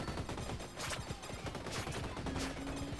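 A rocket launcher weapon in the game Vampire Survivors fires in a rapid, crackling barrage of quiet explosive pops, dense and continuous like a fusillade, no talk over it.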